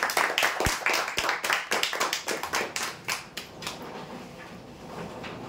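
Applause for lucky draw winners: a small group claps briskly for a few seconds, the sharp hand claps close and distinct before thinning out and fading to quiet.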